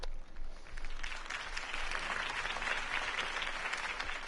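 Crowd applause at a political campaign rally for Harvey Dent in a Batman video game, a steady dense wash of clapping that holds for several seconds without talk.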